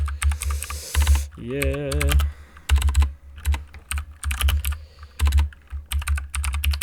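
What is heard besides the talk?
typing on a computer keyboard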